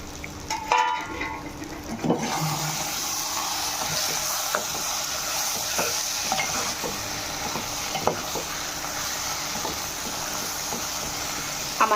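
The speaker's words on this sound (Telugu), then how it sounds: "ఈ కాకరకాయ ముక్కలు కూడా వేసేసుకొని ఒకసారి బాగా కలిపేసుకోవాలి" Fried bitter gourd pieces are stirred into onion chili masala in a pan, a steady low sizzle under repeated scraping and clinking strokes of a spoon, with a sharper knock early on.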